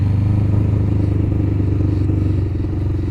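Suzuki GSX750F motorcycle engine idling on choke after carburettor restoration, a loud, steady, close burbling rumble with a fast even firing pulse throughout.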